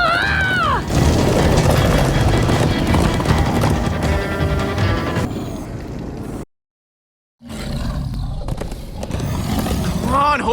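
Horses clip-clop along in a Minecraft: Story Mode scene, rhythmic hoofbeats under shouting voices and game music, cutting to silence for about a second midway before the galloping resumes.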